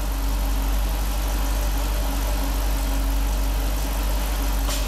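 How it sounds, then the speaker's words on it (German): A 2015 Jeep SRT engine idling steadily during startup after an LPG autogas conversion, a loud, constant low rumble close by with no talk over it. "gib noch mal ein bisschen Gas, Dome."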